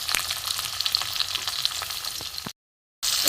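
Garlic, onion and tomato fry in a pan as the base for a spicy Bombay duck (lote fish) chachchari, a steady close crackling sizzle that cuts out briefly and then resumes just as loudly.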